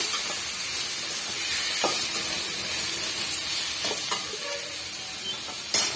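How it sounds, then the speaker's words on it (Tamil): Potato stir-fry with a little turmeric sizzles steadily in a pan, a constant close hiss broken by the scrape and clatter of stirring at irregular moments. "இப்போ மிக்ஸ் பண்ணி விட்டுக்குங்க"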